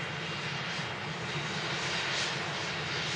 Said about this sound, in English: Taking an interesting taxi out to runway 2.